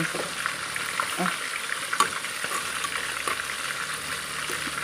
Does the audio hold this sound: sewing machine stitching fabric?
no